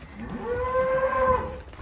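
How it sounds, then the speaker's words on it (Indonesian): A large sacrificial cow for Eid al-Adha gives a single drawn-out moo at moderate distance while being unloaded from a truck, with low farmyard background noise around it. "ini sapi yang terakhir"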